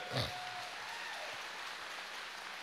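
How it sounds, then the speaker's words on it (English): Audience applause fills a school welcome-back general assembly, a steady, dense wash of many hands clapping at a moderate distance, holding evenly throughout. "Let's give her a hand clap"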